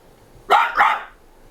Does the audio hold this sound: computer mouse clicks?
no